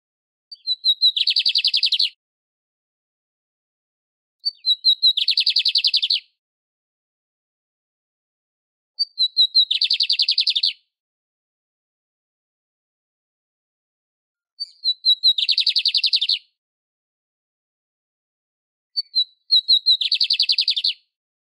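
A Brazilian songbird sings a melodious, whistled song in five clear phrases of about two seconds each, spaced by short silences, loud and close with no other sound.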